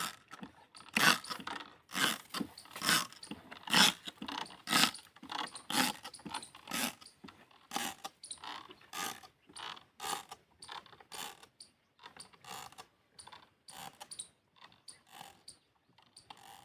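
A hand pump sprayer applying pesticide to a maize crop on a farm, giving a steady series of rhythmic mechanical pumping clicks and creaks, fairly faint, with regular strokes repeating throughout.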